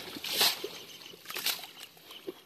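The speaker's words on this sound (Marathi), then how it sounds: "पाणी उड्या होत्यात" Water splashes and sloshes in a tidal creek during low-tide fishing, with soft irregular bursts at moderate distance and no talk over them.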